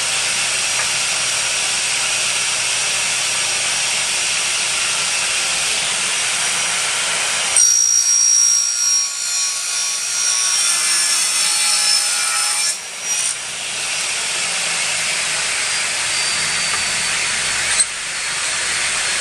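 A power saw machine cuts pieces of wood into four square brackets for a projection window, a loud steady whirring hiss that drops off sharply partway through, then resumes more faintly with brief bursts near the end.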